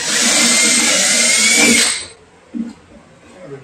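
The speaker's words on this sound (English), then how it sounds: "So we're gonna drill a hole right here," Power drill boring a hole through a subwoofer box for a Skar SVR 10 speaker in a Jeep build, a loud steady whine for about two seconds that stops abruptly, followed by a brief spoken remark and faint handling noises.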